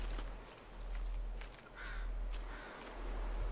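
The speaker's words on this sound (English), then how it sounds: "Looks like the crows are landing on these graves," Crows caw a few times in the game The Forest, faint calls spread over a steady low background hum with no talking.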